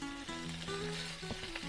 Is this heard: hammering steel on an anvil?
no